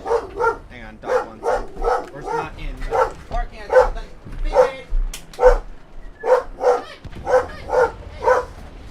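A dog barks repeatedly in a steady series of loud, close yips and woofs, roughly one or two per second, with a voice talking faintly underneath.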